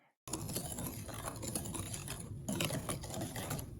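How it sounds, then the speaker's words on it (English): Flour, salt and baking powder are whisked together in a bowl for gluten-free lemon bars, a rapid continuous whisking and scraping close by, with no talking. "Flour, salt, and a little baking powder. I'm just gonna whisk that in."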